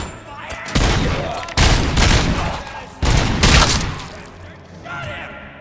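Heavy gunfire in the Robocop: Rogue City video game during a robbery shootout, loud rapid bursts in two main volleys with a tail of echoing shots, a voice shouting over it.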